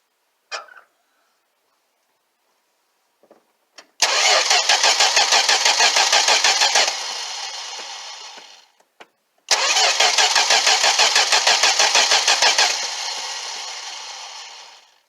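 A 1964 Plymouth Valiant with a sticky throttle cranks with rapid pulsing, catches and roars loudly, settles into a fading idle, then cuts out. It is cranked and started a second time with the same pattern, close by.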